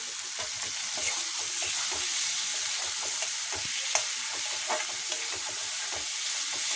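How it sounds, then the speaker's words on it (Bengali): Fried potatoes being stirred and sautéed in hot spiced oil, with a steady close sizzle and scattered scraping clicks of a spoon against the pan, no voices. "এবার ভাজা আলুটা দিয়ে দেবো, দিয়ে একটু কষাবো।"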